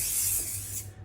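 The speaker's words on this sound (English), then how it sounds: "we basically also just get some oil spray and spray a large baking tray," Oil spray hisses onto a large baking tray in one steady close-up burst for about a second before cutting off, with no talk.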